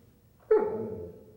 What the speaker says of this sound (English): I can make her bark with a hand signal or German command.